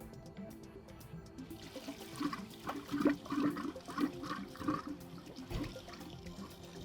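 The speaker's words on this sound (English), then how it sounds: "we're going to slowly turn the water on to allow water into the tank" Water rushing and gurgling steadily into a whole-house water filtration tank as the supply is slowly turned on for a backwash, close and continuous, with no talk.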